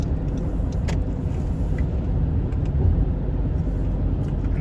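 Cars driving on a highway during a winter storm: a continuous, loud low road rumble and tire wash from nearby traffic, with occasional brief clicks, steady throughout.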